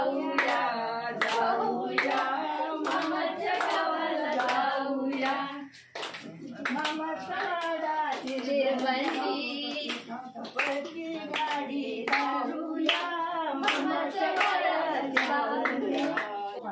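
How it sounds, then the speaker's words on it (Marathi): Elderly grandparents clap for visiting schoolchildren: rhythmic, fairly close group clapping that runs almost continuously, briefly dipping before resuming, with children's voices and chatter mixed in. "आजी आजोबांनी टाळ्या वाजवल्या."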